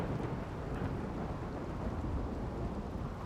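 Steady rain with low rumbling thunder in the colony game Rimworld, a dense continuous wash of noise holding at an even level throughout, no voices.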